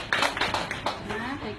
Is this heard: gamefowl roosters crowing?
no